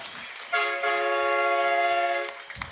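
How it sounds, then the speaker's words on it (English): A loud air horn blasts at a high school football game between East Knox and Northmor, a single sustained harmonic honk of nearly two seconds that stands out clearly over the faint stadium background. "So get ready for the air horn"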